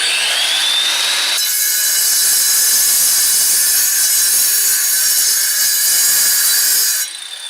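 Saw trimming a brick, a loud continuous grinding whine with gritty cutting noise lasting about seven seconds before dropping off, with no talking.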